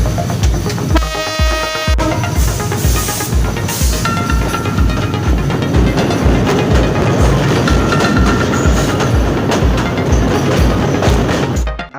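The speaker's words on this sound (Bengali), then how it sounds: "আমাদের ট্রেনটি বর্তমানে মেঘনা নদী ব্রিজের উপর দিয়ে চলে যাচ্ছে" A passenger train crosses the Meghna river bridge in Bangladesh, with a loud, continuous rumble and rhythmic wheel clatter close by and a brief horn blast near the start.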